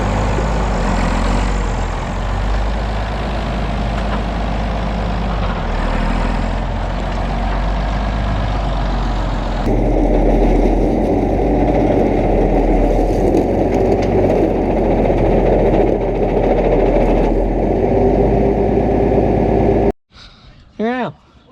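A 1974 John Deere 7520 four-wheel-drive tractor engine running steadily under load on an M&W dyno, a loud, continuous heavy diesel drone close by; it cuts off abruptly near the end, followed by a brief voice.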